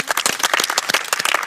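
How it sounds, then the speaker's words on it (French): A small group claps at an opera audition in the Central African Republic, quick uneven hand claps close by and fairly loud, forming a brief burst of applause. "Donc moi, je vous applaudis. Bravo."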